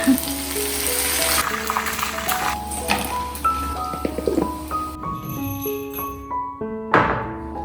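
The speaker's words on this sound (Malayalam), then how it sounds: "ചിക്കനൊക്കെ പൊരിക്കട്ടെ" Chicken frying in a pan gives a steady, close hiss and crackle, partly masked by melodic background music that plays throughout.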